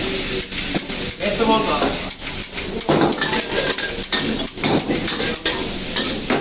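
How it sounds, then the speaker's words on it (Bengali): Capsicum and mixed vegetables fry in a pan with fish, sizzling steadily under repeated stirring scrapes and clinks. Someone talks over the cooking throughout. "এখন দেখেন আমি ক্যাপসিকামগুলো দিয়ে দেবো এর ভিতরে"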